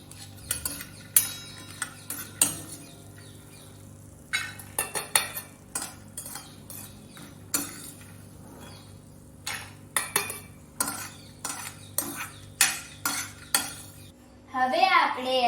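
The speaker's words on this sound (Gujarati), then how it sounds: "તો હવે આપણે મખાનાને નીકાળી લઈશું" Roasted makhana (fox nuts) being scooped out of a pan with a metal spoon, giving scattered clinks, scrapes and rattles of utensil on cookware, irregular and fairly close, with quiet gaps between bursts.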